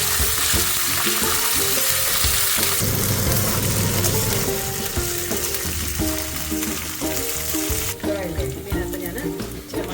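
Curry leaves and kanthari chillies hit hot oil for a Kerala lime pickle, a loud, crackling sizzle that surges, settles into steady frying with stirring, and spits again near the end.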